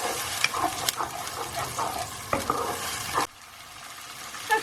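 Chickpea curry base frying in released oil for channa masala, with steady close sizzling and scraping stir strokes throughout, then the sizzle drops sharply to a quieter simmer near the end.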